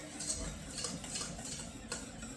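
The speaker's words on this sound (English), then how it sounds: "So I am just whisking it." A whisk scrapes and stirs through hot cheese sauce in a pan, some solids stuck to the bottom, making a soft continuous swishing with faint metallic ticks, close up and steady.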